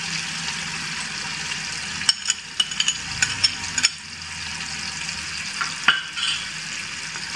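Onion and garlic sizzle steadily in a pan with a constant frying hiss, broken by several sharp scrapes and clinks of stirring near the middle and again toward the end, no voices present.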